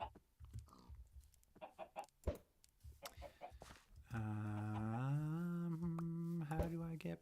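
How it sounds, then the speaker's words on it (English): Clucking from Minecraft chickens, including a baby chicken, in short bursts over the first few seconds, then covered by a loud sustained tone. "Oh, baby chicken."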